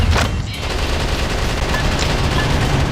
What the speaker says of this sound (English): Now let's get the machine gun.